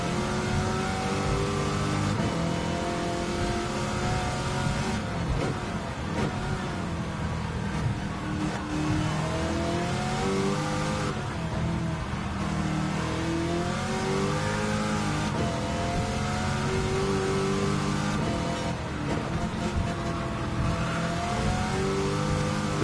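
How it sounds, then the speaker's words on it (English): A Porsche engine in the Gran Turismo racing game, played in VR with a wheel, revs loudly and continuously, its pitch climbing and dropping through gear changes at high speed, with no voices throughout. "This Porsche's going really fast."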